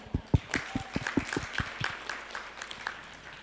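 A small audience at a meditation gathering claps sparsely, with a dozen or so distinct, uneven hand claps close by that thin out and fade toward the end.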